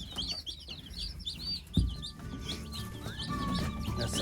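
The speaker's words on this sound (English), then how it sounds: "all 20 chicks have been put in the brooder" Twenty baby chicks peeping in a brooder, a busy chorus of high, rapid chirps close by, with a brief thump partway through.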